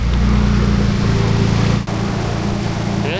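A car engine runs after a fuel injector replacement, idling steadily with a low, even hum and faint tonal whine. A brief dip marks the middle, then the running continues.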